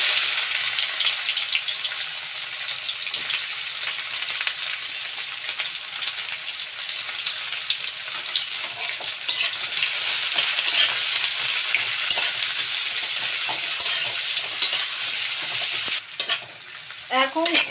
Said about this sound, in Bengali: এখন আমি কুচনো পেঁয়াজগুলো দিয়ে দেব।